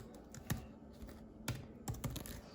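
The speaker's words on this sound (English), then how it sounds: "I don't like typing one-handed," Someone types one-handed on a computer keyboard, making sparse, uneven key clicks and a few sharper taps, close and quiet, with no talking.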